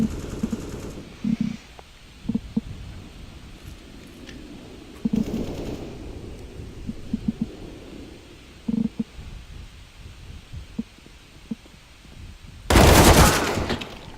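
Bursts of gunfire in a Counter-Strike: Global Offensive esports match at FACEIT London 2018, scattered short shots and volleys at moderate distance over the game's background ambience, ending in a loud, harsh noise burst near the end.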